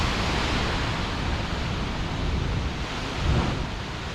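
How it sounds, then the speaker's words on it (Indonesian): Sea waves surging into a gaping hole in a rock cave on a rocky coastal beach, a dense continuous roar of surf with a heavier surge near the end. "Jadi ada ombak yang air laut masuk ke lubang."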